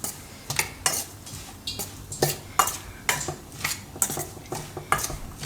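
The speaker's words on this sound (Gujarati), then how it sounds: "તો આ બધું આપણે મિક્સ કરી લઈશું કારેલામાં" A spoon scrapes and clinks repeatedly against a bowl, mixing spices into bitter gourd, in a steady rhythm, close and fairly loud, with no voices.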